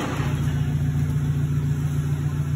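Volkswagen Gol car rolling down a ramp after a wheel set change and alignment, its engine humming steadily at low revs, close and continuous with no talk.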